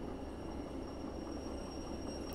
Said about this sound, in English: train's coming to a stand before the junction